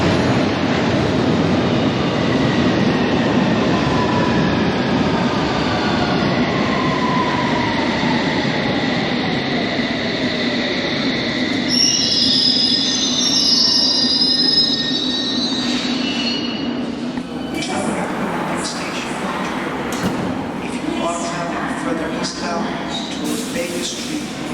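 A London Underground 7-car S-Stock train rumbles loudly nearby at Paddington station, with long, rising and falling wheel squeals, then slows with clanks and hiss as it draws into the platform.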